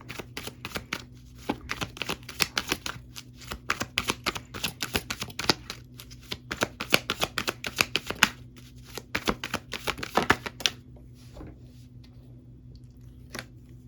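A deck of tarot cards being shuffled by hand, a run of rapid papery riffles and taps for about ten seconds, close and fairly quiet, then a few scattered soft clicks.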